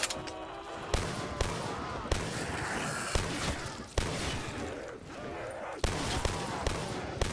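Gunfire rings out in a zombies-mode video game, with sharp, loud shots spaced irregularly about a second apart, each trailing into a noisy wash, while faint voices sit underneath.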